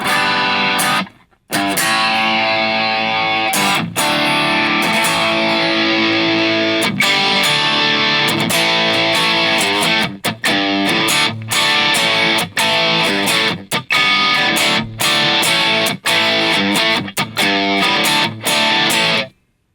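Distorted electric-style guitar from an Enya Nova Go Sonic acoustic-electric guitar using its built-in Vocation distortion effect, playing loud, continuous chords with brief stops and choppy rhythmic breaks throughout.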